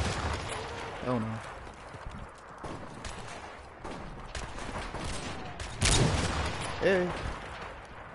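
Scattered gunfire and clattering action from Modern Warfare Remastered gameplay, mid-distance shots and a louder burst near the end, under brief spoken exclamations.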